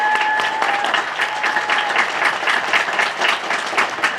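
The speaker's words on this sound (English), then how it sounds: "Let's give another round of applause for row one." Sustained applause from an audience at an eighth grade recognition ceremony, a dense, loud wash of clapping for a row of students that holds steady throughout, with a brief tone at the start.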